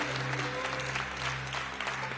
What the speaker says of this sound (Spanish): Vamos a levantar un aplauso al Rey y hágalo con todo el corazón